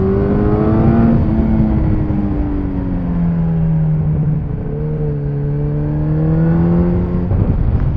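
Yamaha Fazer motorcycle engine fitted with a MIVV Strom GP exhaust, a loud, close engine note that climbs and falls in pitch as it revs, running continuously for several seconds without talking.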